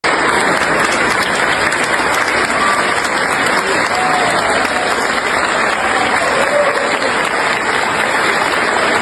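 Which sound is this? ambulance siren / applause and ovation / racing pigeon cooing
applause and ovation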